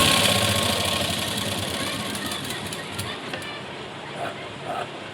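A sewing machine stitches two pieces of fabric together to make a loop strip for a blouse neckline, giving a loud, continuous whirring run that slowly fades and then stops.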